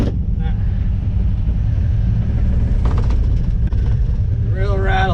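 A Honda DA9 drives along loud and rattly, its engine rumble and cabin rattles filling the space steadily, with a few clattering knocks midway and a brief voice near the end.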